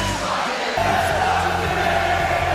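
A packed wrestling arena crowd sings along to Randy Orton's entrance theme, a loud, dense, continuous roar of thousands of voices filling the hall.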